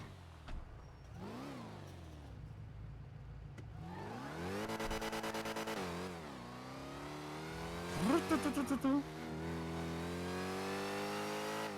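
Car engine in the GTA V NoPixel roleplay game revving up and down in repeated rising and falling sweeps, with a sharp burst of stuttering revs near the end, loud and close with no talk.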